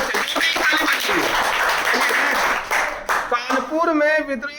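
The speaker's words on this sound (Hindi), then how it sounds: "इसके लिए ताली बजाइए सभी बच्चे, ताली बजाइए।" Schoolchildren in a Hindi-medium class applaud together, a dense roomful of clapping that runs steadily for about three seconds, then gives way to a teacher's voice speaking.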